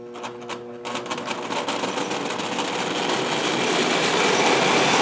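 An old toy train of mixed Bing and Märklin parts runs on its track, a steady whirring motor with clattering wheels and a faint squeal, starting softer and growing louder and closer with no talk.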